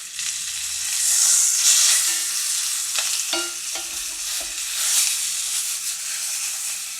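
Pork pieces sear in a hot pan with a continuous loud sizzle, broken by a few clattering knocks and scrapes as the meat is moved around, with no one talking.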